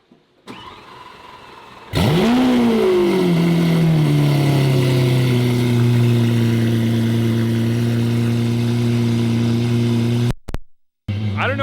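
A Mansory Lamborghini Aventador starts up with a sharp, loud bark, then holds a heavy, steady rumbling idle for about eight seconds before cutting off abruptly. No one speaks.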